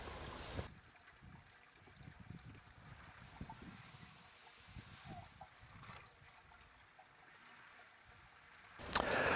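Water trickles through an aquaponics biological filter and drops into a sump, a soft continuous splashing and gurgling with low rumbling underneath, ending in a louder bump.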